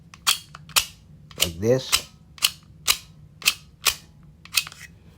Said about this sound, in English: it's a loader, ammo loader. So let's see how this one is used.